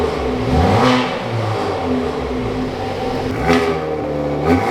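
A warmed-up car engine revs as the driver presses the gas, rising and falling in repeated loud, close pulls over a steady idle hum, with no talking.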